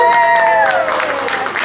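Audience applause at a motivational talk, a burst of clapping that swells in as a voice trails off and continues steadily to the end.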